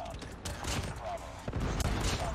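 Kilo Bolt sniper rifle firing in Call of Duty Mobile: dense in-game gunfire and battle noise, with sharp cracking shots amid continuous combat ambience.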